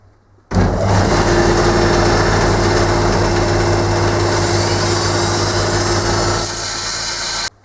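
A grinder or belt sander running in a home workshop while a metal lathe cross-slide casting is smoothed: a loud, steady motor roar and whine starts abruptly, holds for about seven seconds, then cuts off.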